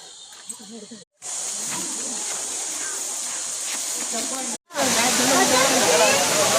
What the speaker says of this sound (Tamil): சுருளி ஃபால்ஸ்.